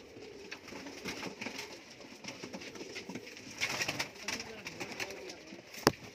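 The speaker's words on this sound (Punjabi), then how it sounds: "ਸਾਰੇ ਉੱਡਣੇ ਵਾਲੇ ਕਬੂਤਰ ਆ ਬਾਈ ਟੈਡੀ ਕਰੋਸ" Teddy cross pigeons cooing, soft repeated coos with rustling and scattered bird noises around them, moderately close, a sharp click near the end, no clear talk.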